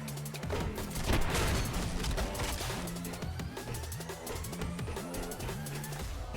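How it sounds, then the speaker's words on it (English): Rapid bursts of gunfire in the video game SPRAWL, sustained volleys of shots over a pulsing game music score. "What is that gunfire?"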